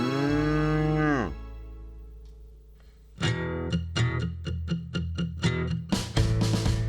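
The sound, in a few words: cattle mooing, farm livestock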